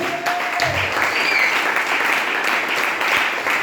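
A church congregation claps steadily and loudly throughout, a dense continuous wash of applause with a few faint voices mixed in.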